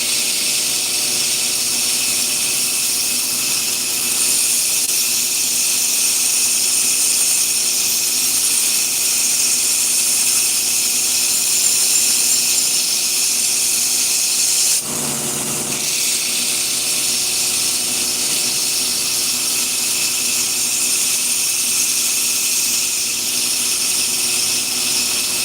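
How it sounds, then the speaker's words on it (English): Knife blade being profile-ground on the bevel (edge) side with a power grinder, a steady loud high-pitched hiss and whine that runs continuously, with one brief dip partway through. "I'm going to go ahead and I'm going to profile the bevel side,"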